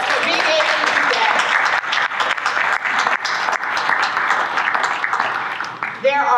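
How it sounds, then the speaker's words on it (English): Audience applause at a convention gathering, a full, steady roar of clapping that runs for several seconds and tapers off at the end. "let's give ourselves an applause for being able to do that"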